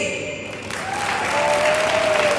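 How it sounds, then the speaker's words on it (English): Student audience at a high school STEM awards ceremony clapping their hands in a steady wash of applause that swells slightly, with faint voices underneath. "Let's have all the West people clap their hands"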